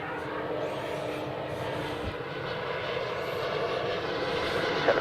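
A Qantas airliner comes in to land at Adelaide Airport, its steady broadband engine roar holding throughout and swelling slightly louder toward the end, with no voices over it.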